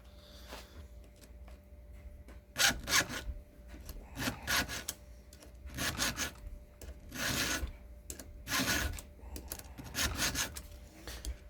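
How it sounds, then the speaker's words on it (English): Hand file rasping across chainsaw teeth held in a vise, rhythmic gritty strokes in short bursts of about two or three at a time, close and clear with no talking. "Well, let's get to filing, folks."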